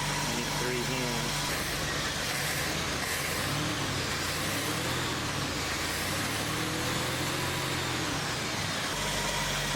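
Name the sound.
car engine revving during ignition timing check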